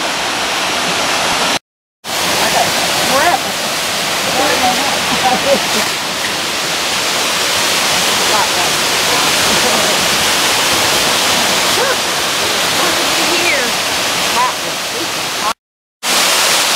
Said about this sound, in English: This is really a nice waterfall,